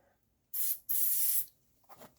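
Bore cleaner hisses from a spray can onto a Glock 19 pistol in two short blasts, the second longer, followed by a faint rustle.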